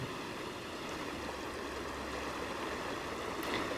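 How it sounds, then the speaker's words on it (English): A flowing stream shortly before it sinks underground, a steady broadband babble of running water that stays constant throughout with no voices. "This stream disappears underground approximately 1 kilometre away."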